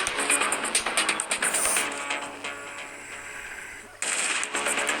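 Rapid gunfire in the video game Armed, fast bursts of automatic shots cracking in quick succession at moderate volume, easing off briefly before another burst cuts in.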